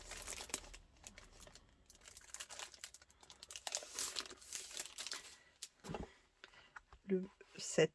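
Crinkling and rustling of a basic paper set from a new Craft O Clock collection being unpacked, with crackling bursts in the first half and a few sharper crinkles near the end, under French speech.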